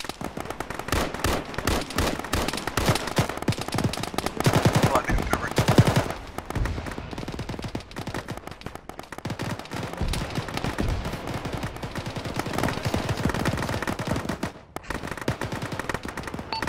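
Sustained machine gun fire in the Arma military game, dense rapid bursts and overlapping gunshots from a two-story building across a field, loud and continuous with a few brief lulls.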